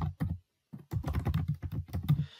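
Quick, close keyboard clicks from typing Python code for a linear programming analysis, with dense bursts of keystrokes, a brief pause, then steady fast typing with no talking.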